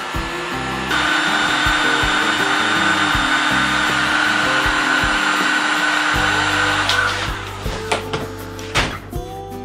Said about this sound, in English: just heat it up a little bit with the heat gun